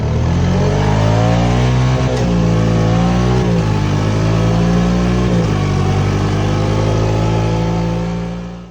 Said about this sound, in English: I just want you to hear how smooth the transmission is when